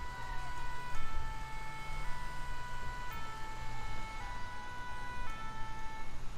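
Fire engine siren in the video game GTA 5, a steady wailing tone that repeats in regular cycles about once a second, heard at a moderate distance over a low engine rumble.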